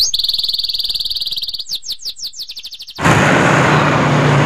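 Prinia birds at a bird market chirp in a fast, shrill, continuous trill up close, then break into rapid repeated chirps before a loud burst of broadband market noise takes over.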